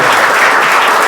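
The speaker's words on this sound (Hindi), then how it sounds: "लो ताली बजाओ, ताली बजाओ।" Students at a school prize-giving ceremony break into a brief, loud round of applause, many hands clapping densely together at close range with no talking.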